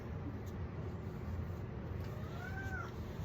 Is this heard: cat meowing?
yes